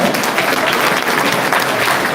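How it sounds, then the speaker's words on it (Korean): A banquet audience at a church awards night in a Seoul hotel ballroom breaks into loud, dense applause, steady and sustained from start to end. "격려의 박수 한번 부탁드리겠습니다"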